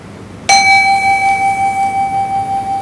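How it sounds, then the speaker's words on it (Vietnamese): A Buddhist ritual bell is struck once during a chanting ceremony, giving a loud clear strike followed by a long sustained ring that pulses slowly as it fades, heard alone. "khi nghe ba tiếng chuông gia trì"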